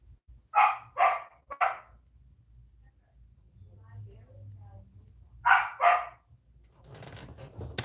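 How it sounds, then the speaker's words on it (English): Small puppy barks close by: three quick yaps, a quiet stretch with faint background sound, then two more barks and some rustling at the end. "They're a sassy little puppy over there."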